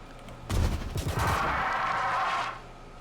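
Magic missile spell cast in the Pathfinder Kingmaker video game: a sudden burst of rapid crackling impacts that settles into a sustained shimmering whoosh, loud and alone for about two seconds before fading.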